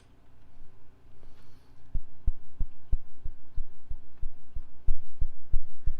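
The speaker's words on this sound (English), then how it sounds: "I'm going to plug in just the LFO so you can hear the LFO." Slow LFO pulse from an Arturia MiniBrute synthesizer patched alone into a modular setup: a steady, evenly spaced low thumping throb, about two beats per second, over a faint hum with no talk.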